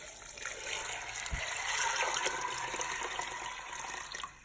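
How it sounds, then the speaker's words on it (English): Room temperature water pours into a pot of pinto beans, a continuous splashing, gurgling flow that runs steadily for several seconds, with a brief low thump partway through, then cuts off near the end. "we're gonna go ahead and add room temperature water"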